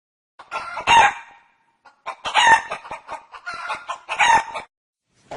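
A chicken clucks in four short, bursting clusters separated by brief silences. Each burst is loud, close and excited, with a rough squawking edge and no voices around it.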